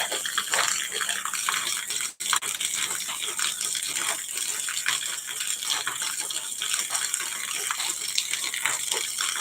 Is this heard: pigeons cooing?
no